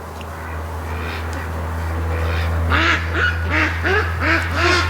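Muscovy ducks make a run of raspy quacks in a quick rhythm, louder toward the end, over a steady low hum.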